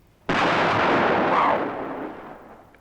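A large explosion set off by two chemicals mixing bursts out suddenly with a sharp onset, then a broad roaring blast that holds for about a second and a half before rumbling away into a fading tail.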